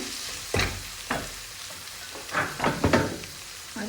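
Tomatoes, yardlong beans and other vegetables fry with leftover stale rice in a pan, a steady sizzle broken by several scraping stirs of a spatula, close up and without talk.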